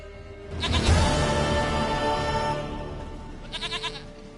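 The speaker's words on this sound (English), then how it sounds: "Goat of mine, dearest, sweetest goat." A goat in The Witcher 3 video game bleats loudly and nearby, a long wavering cry followed by a shorter, quavering bleat, with no talk over it.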